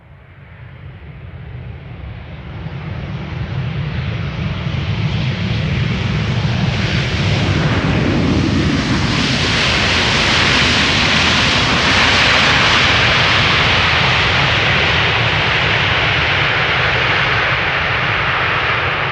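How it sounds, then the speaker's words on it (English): A Delta Airbus A330neo jet arrives at Amsterdam Schiphol Airport, its engine roar building from a moderate rumble into a loud, broad, sustained howl as the aircraft passes close by. "This is Delta Airlines Flight 74 arriving from Atlanta, Georgia. A330 Neo"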